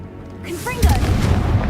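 Confringo fire-blast spell in Hogwarts Legacy, a short whooshing cast followed by a loud explosive boom and crackling fiery tail.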